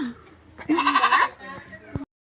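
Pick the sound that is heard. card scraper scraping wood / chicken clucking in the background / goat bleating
goat bleating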